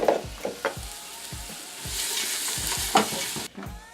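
Onions sweating in a hot pan for butternut squash soup: a steady bright sizzle under repeated rhythmic stirring scrapes and knocks, close and loud, with no voice.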